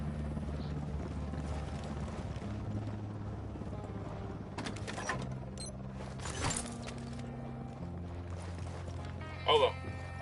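Helicopter in the video game Ghost Recon Wildlands, a low, steady rotor drone humming throughout, moderately quiet, with a few brief clicks and effects layered over it.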